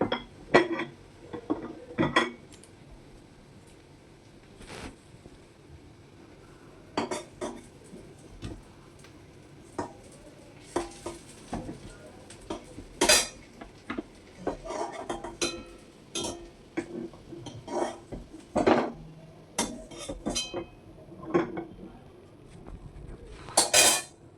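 Chicken and banana-flower cutlets are lifted one by one from a lightly oiled frying pan with a metal utensil, giving sparse, sharp clinks and scrapes against the pan with quiet pauses between.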